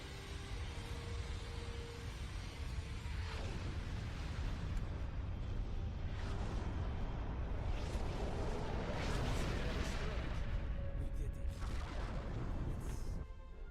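Starship weapons fire in the space battle game Star Trek Online, a dense, continuous barrage of booming blasts and explosions layered over a steady rumbling roar that stays loud throughout.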